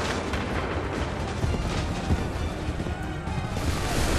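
A firing squad in the video game Assassin's Creed III fires a musket volley, heard as dense, loud booming gunfire and rumble that fills the scene without pause.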